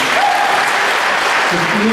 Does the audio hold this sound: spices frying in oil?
no